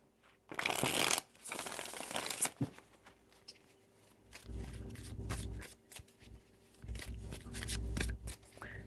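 Tarot cards being shuffled in a few quick riffling bursts, with a louder first burst and softer shuffles after, close and fairly quiet, with light handling rustles between them.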